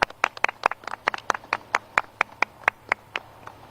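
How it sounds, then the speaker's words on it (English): Scattered hands clap at a firefighter charity fundraiser, a small group giving a thin round of crisp, uneven claps that stay close and distinct. "Give her a round of applause."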